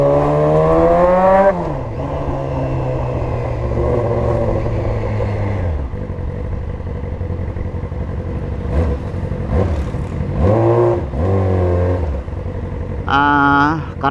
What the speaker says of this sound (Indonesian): Jadi digas sedikit dia kayak ngegeber gitu cuy.